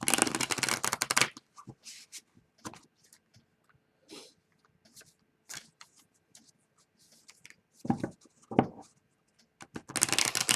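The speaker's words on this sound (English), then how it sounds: "I'm going to shuffle the cards" Oracle cards are shuffled in loud riffling bursts at the start and end, with softer scattered card taps and handling in between, close by.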